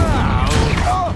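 A fire spell cast in the Hogwarts Legacy video game, a loud whooshing burst of flame with magical shimmer over a dense, sustained low rumble, mixed with game sound effects throughout the short moment.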